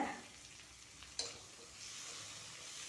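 Tomatoes and tamarind sautéing in a hot pan give a steady, close sizzle with a brief sharper crackle near the middle, and no one speaks.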